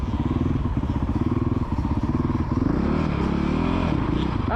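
A child rides a motocross motorcycle around a dirt MX track, the engine loud and close with a steady pulsing throttle that rises into a rev near the end, with faint clatter and no talk.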